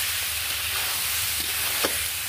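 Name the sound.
water added to sizzling spice masala in pan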